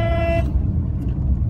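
A single short, loud car horn honk, close by, followed by the rumble of road traffic.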